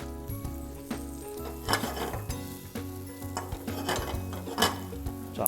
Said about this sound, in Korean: 자, 볶을 때 소금 살짝.